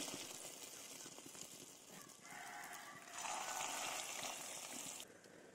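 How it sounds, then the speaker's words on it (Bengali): Potato and egg fritters frying in very hot oil in a kadai make a soft, continuous bubbling hiss that swells louder partway through, then drops back. It stays quiet throughout with no voices. "তেলটা খুব ভালো মতো গরম হয়ে গেছে, বড়াগুলো এবারে তেলের মধ্যে ছেড়ে দেবো।"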